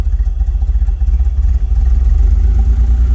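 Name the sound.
1981 DeLorean DMC12 engine idling after cold start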